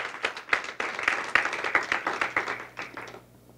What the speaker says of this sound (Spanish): Den la ofrenda de palmas al Señor entonces.